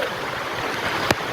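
Water rushes across a village footpath near a check dam in Ratnagiri, a loud, continuous close gush with one sharp splash near the end.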